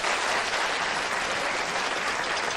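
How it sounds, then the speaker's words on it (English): A TV studio audience applauds steadily, a dense wash of clapping holding even and unbroken for a few seconds. "Applaud if you've never been to one of these places."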